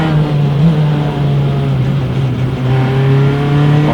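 Race cars lap Mid-Ohio in an SCCA Pro sprint race, engines droning loudly and steadily with a sustained tonal whine that rises and falls slightly as cars pass, no talk over it.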